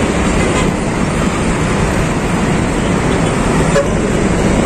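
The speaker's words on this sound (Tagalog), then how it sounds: "Kabilaan niya, traffic talaga. Sobrang traffic." Heavy road traffic at Quezon City Circle, seen from an overpass: a constant broad roar of cars and buses passing, loud and unbroken, with no clear voices above the engine noise.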